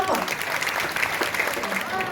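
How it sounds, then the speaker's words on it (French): A room full of people applauds a long-serving worker at a medal ceremony, steady dense clapping held throughout with voices mixed in underneath. "On l'applaudit très très fort."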